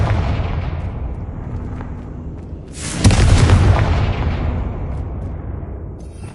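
Confringo blasting spell in Hogwarts Legacy: after a quiet ambient lead-in, a single loud, bright explosion bursts out and decays into a lingering rumble over several seconds.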